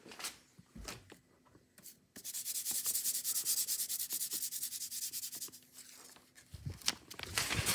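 A DVD disc is scratched up close, giving rough, dry scraping. A few short scrapes lead into a long, sustained grinding rub lasting several seconds, then more brief strokes, with no talking.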